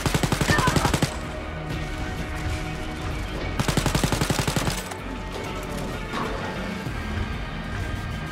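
Rapid automatic gunfire from the shooter game Wolfenstein Youngblood, two loud sustained bursts of fast repeating shots near the start and middle, with crashing impacts and a voice talking between them.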